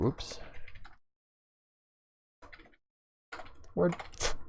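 Keys clatter on a computer keyboard in short bursts at close range, mixed with a person talking over the typing.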